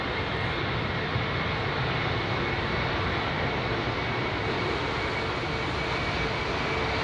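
Thai Airways Boeing 777-300ER roars steadily on departure from Heathrow runway 27R, a loud, continuous broadband jet engine rumble that holds at even strength throughout with no voices.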